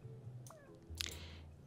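Cartoon cats meowing in the puzzle game Cats Organized Neatly, a couple of short, faint meows with a slightly cross, whiny tone against quiet game background.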